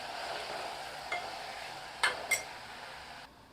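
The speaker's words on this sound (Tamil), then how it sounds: "மூடியை போடாமல் ஒரு டூ மினிட்ஸ் வந்து வதக்கிக்கலாம்" Drumstick leaves sauté in an open pan with a soft, steady sizzle, broken by a few light clinks and scrapes of a spoon against the pan, close by with no talking.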